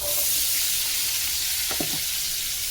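Onion frying in butter in a kadai hisses in a loud, steady, close sizzle with a brief stirring scrape near the end, and no talk over it.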